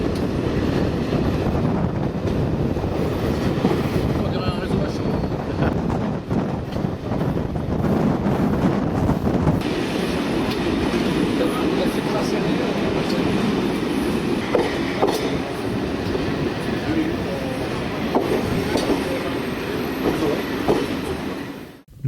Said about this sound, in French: Notre train chemine correctement.